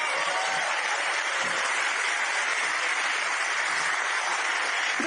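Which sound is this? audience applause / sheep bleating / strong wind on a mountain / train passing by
audience applause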